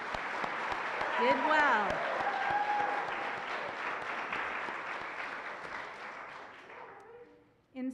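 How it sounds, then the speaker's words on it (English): Audience applause for graduating seniors at a Summit Academy graduation ceremony, a sustained clapping that gradually fades, with a voice speaking briefly near the start and again at the very end. "I think we need to give a round of applause to our seniors for getting through those speeches"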